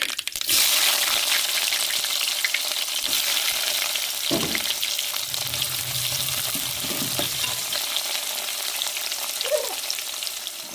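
Curry leaves, urad dal and chopped onion sizzle steadily in hot oil, a loud continuous frying hiss with occasional crackles and a few stirring clanks close by.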